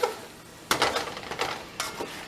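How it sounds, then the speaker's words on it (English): Oxtails sauteing in seasoning in a pan, giving a soft sizzle broken by a few sharp stirring scrapes and clinks of a utensil against the pan, close by with no talking. "Just going to saute these down a little bit."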